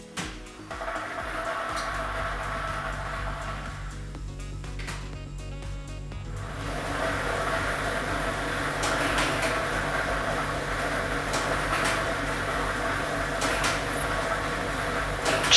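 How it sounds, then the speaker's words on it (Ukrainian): A lottery ball machine (drum B, ball set 4) churns balls during a Ukrainian state lottery draw, a steady, dense rattling whir running throughout with a brief shift in texture partway through, no talking. "Тиражна комісія обрала лототрон Б комплект кульок номер 4 І ми вмикаємо лототрон."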